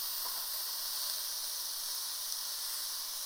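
Green beans and mushrooms sauté in a hot pan, giving a steady, even hiss and sizzle that holds at a moderate level throughout with no talking.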